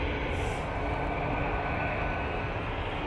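Jet2 airliner departing Manchester Airport on a windy, snowy day, a loud continuous broadband engine roar heard at a distance, steady with no pauses.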